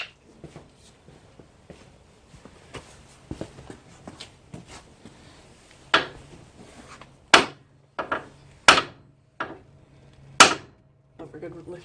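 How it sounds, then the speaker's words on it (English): A steel hammer whacks a tie rod end on a Mitsubishi RVR, starting with light taps and knocks and building to several loud, sharp blows near the end, with people talking in between. "Okay, I'll get you a real hammer."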